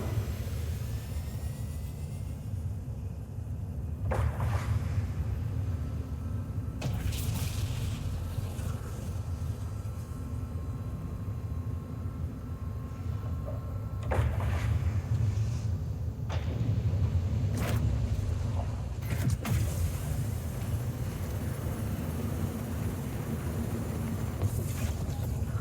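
In Star Citizen, the M-80 heavy fighter spaceship takes off with a low, steady engine rumble and windy rush, broken by several sharp whooshing bursts as it powers away.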